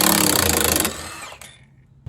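Impact wrench or power tool loosening a rusty front passenger-side body mount bolt on a 1998 Jeep Wrangler TJ: a loud, rapid hammering burst for under a second, then a fading whir and quiet.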